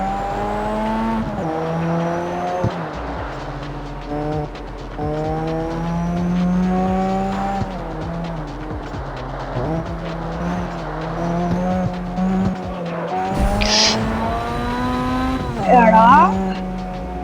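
A car being driven fast gives a loud, steady engine drone that rises and falls with speed, close and continuous throughout, while people talk over it.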